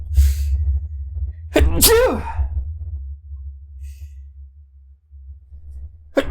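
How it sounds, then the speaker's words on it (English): A single loud sneeze bursts out close by against a low steady hum, followed by a breathy exhale and quiet background. "I have to sneeze."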